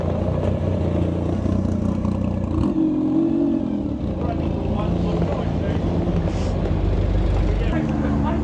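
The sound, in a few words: McLaren P1 supercar driving past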